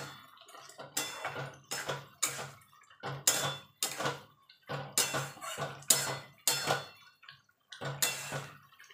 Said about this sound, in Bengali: এবার যে বাকি যে পোস্তটা বেঁচে ছিল সেটা দিয়ে দেবো। দিয়ে ভালো করে নেড়ে দেবো।